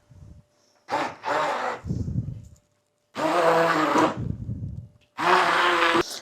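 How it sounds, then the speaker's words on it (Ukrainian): A blender whirs in three loud bursts with pauses between, its motor roaring as it churns a thick batter for a chocolate and cheese pie. "Всі інгредієнти тепер гарно пробиваємо блендером до однорідної, красивої мазкої текстури"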